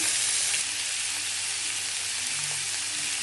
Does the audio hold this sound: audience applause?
no